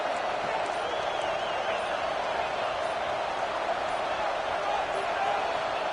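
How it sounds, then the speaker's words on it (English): A steady, dense roar from a stadium crowd at a college football game between UGA and Texas Tech, loud and unbroken for the whole stretch with no distinct voices standing out. "It's early, but this crowd is fired up. Listen to this noise here."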